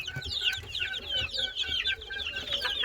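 A flock of chickens clucks in a crowded poultry coop in Bursa, dense overlapping clucks and calls nearby, steady throughout.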